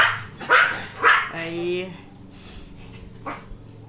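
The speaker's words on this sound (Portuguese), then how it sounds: "esse fica latindo" A dog barks several times in quick succession, then a longer whining yelp and a final sharp bark, fairly close, while someone speaks briefly over it.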